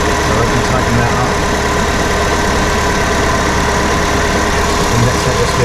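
A Fiat car engine idling as it warms up after a thermostat replacement, a steady, even mid-low drone with a constant vibration, close and loud throughout, no voices.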